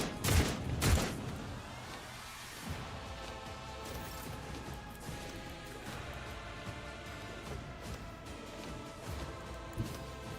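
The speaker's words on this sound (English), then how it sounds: "The cultists are shooting at the Hellbrute." Gunfire in the Rogue Trader video game as cultists shoot at a Hellbrute: two sharp loud bursts open, followed by a rattling, crackling din of battle at lower volume.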